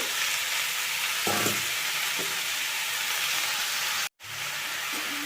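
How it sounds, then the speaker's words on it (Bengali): Pea shoot greens hiss and sizzle steadily in a hot pan while being stirred, with a few soft scraping strokes and a brief cut in the sound near the end. "পুরো শাকটা দিয়ে দিয়েছি, এবারে আস্তে করে এটা নাড়াচাড়া করে ওপর নিচ করে"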